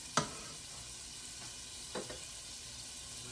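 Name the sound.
Mexican street corn dip sizzling in a saucepan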